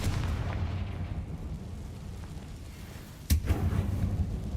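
A Confringo blasting spell goes off in a Harry Potter video game, one sharp explosive boom landing late over a steady low rumbling game ambience, with no talking.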